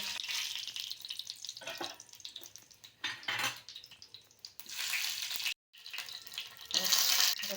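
A bay leaf hits hot oil in a pan while cooking mushroom and pea curry, producing bursts of sizzling with utensil clinks, a sudden brief silence, then renewed hissing.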